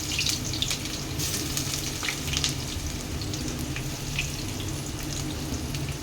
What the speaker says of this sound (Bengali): এতে ফোড়ন দিয়েছি 2টো শুকনো লঙ্কা, 1টা তেজপাতা, একটু জিরে।